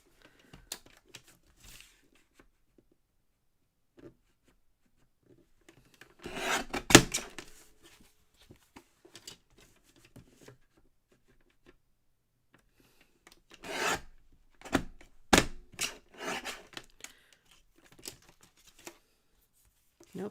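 Scissors or a trimmer cutting along the sides of a recycled Christmas card: two bursts of close, scratchy rasping cuts separated by quiet handling noises and faint rustles.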